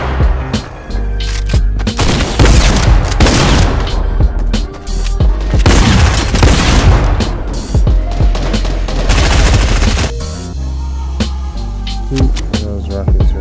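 Rockets firing and exploding in Fortnite, dense loud barrages of blasts and booming impacts overlapping with gunfire for most of the stretch, easing off toward the end.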